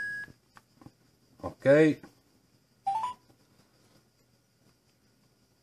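Short electronic keypad dialing beeps from a TaoTronics Bluetooth speaker placing a call to Vodafone, a few brief tones spaced apart around a burst of speech.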